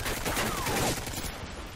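A brief, steady rattle of automatic weapon fire in Call of Duty Modern Warfare 2 sounds near and continuous for under two seconds, with no voices over it.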